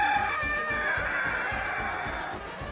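A Sicilian Buttercup hen, a gold-and-black feathered chicken breed with a floral comb, clucks and crows loudly and continuously close by, with no voices.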